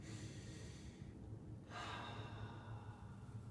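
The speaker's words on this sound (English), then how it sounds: "deep breath." A person draws a slow, deep breath, an audible airy inhale followed by a soft exhale, close and quiet over a low background hum.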